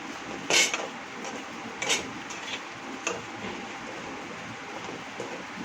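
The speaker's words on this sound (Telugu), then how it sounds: "మూడు స్పూన్లు ధనియాల పొడి వేస్తాను నేను చేసి కలబెట్టుకోవాలి" A spoon stirs chicken fry with coriander powder in a pan, making a few scattered metal clinks and scrapes over a faint background hiss, close and quiet.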